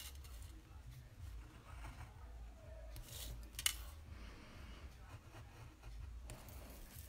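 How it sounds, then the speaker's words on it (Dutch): Scissors snipping through paper in a Dutch crafting session of cutting out little house windows, with quiet soft cuts building to a sharp snip midway amid low room noise. "Zodat ik een opening heb om straks met de schaar in te gaan."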